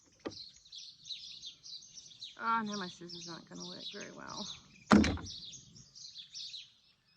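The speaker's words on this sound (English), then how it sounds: "Listen to those birds." Birds sing outdoors after rain, with a steady run of repeated high chirps and trills throughout, moderately close, while someone speaks briefly over them and a sharp knock or snip sounds once.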